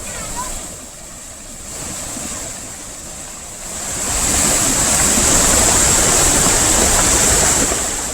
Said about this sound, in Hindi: नाले का पानी अब सड़क के ऊपर से बह रहा है